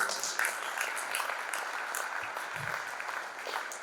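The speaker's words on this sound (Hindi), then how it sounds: "तो सर के लिए हम फिर से अनुमोदन करने के लिए तालियां बजाएंगे।" Audience applause at a sendoff ceremony, a steady wash of many hands clapping at even loudness throughout, moderately distant with no clear voices over it.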